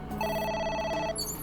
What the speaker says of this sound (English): Hello? A phone. Hello?